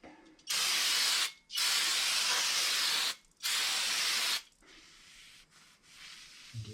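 Brake cleaner sprayed onto truck front brake parts during a Ram brake install: three long, loud aerosol hissing bursts with short pauses between, followed by quieter handling noises, close up.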